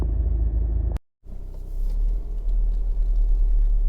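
A Honda Civic 1.6 i-DTEC Sport Navi diesel five-door, 2015, running on a road test: a steady low engine and road rumble that drops out for a moment near the start, then resumes and continues under no talk.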